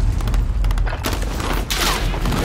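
Gunfire in Call of Duty: Modern Warfare, a dense fusillade of shots and booming blasts rolling close and loud throughout, with no clear voice over it.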